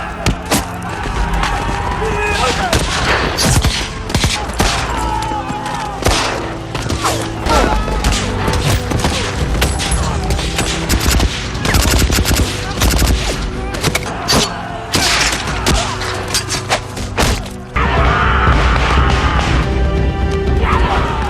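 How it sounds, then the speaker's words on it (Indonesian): Intense battle gunfire between American and Japanese troops in a war film, with bursts of rapid shots, crashes and booms layered over a loud, chaotic background. "Tembakan demi tembakan dimuntahkan oleh masing-masing pihak"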